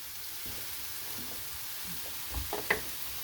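Ham frying in a pan with chorizo, a soft steady sizzle with a few clinks and stirring knocks near the end.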